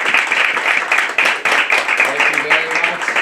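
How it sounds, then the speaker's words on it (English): A town hall audience for a Colorado district candidates' event claps in a brief round of applause, moderately loud and dense, with voices speaking over the clapping. "Can we give them a big round of applause, please?"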